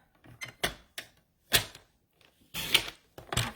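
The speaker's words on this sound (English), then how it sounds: "So I'm going to trim these a little bit." Scissors trimming craft poinsettia petals: a series of close, crisp snips and paper rustles, uneven in rhythm with short pauses between cuts.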